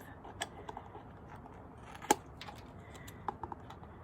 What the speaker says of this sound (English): What I do is I just go and I snip off